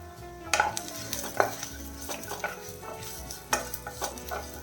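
A spoon stirs a tomato stew with onions and cardamom in a frying pan, giving scraping and clinking against the pan over a continuous close sizzle.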